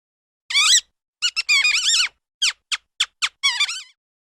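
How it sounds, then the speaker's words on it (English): A mouse gives a series of high, thin squeaks, one longer call followed by quick chirps and short bursts in an irregular rhythm, clear and close with no talk. "Mouse."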